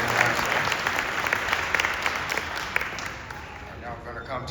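Sustained applause from an audience at a children's science academy junior white coat graduation ceremony, steady dense clapping filling the hall throughout with faint voices underneath.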